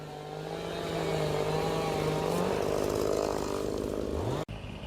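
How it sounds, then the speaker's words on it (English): Chainsaws roar steadily as they cut into standing trees to girdle them for wildlife habitat management, a loud, continuous engine drone with a pitch that shifts slightly, ending abruptly near the close. "I'm gonna get in here while the boys are working over there with the saws and show you."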